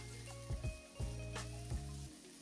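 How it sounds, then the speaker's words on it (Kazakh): Onion, carrot and garlic fry in oil left over from cooking chicken, making a soft, low sizzle with a few dull knocks as the vegetables are stirred. "Тауық қуырылған майға қалған көкөністерді пияз, сәбіз және сарымсақты қосып араластырып қуырып аламыз."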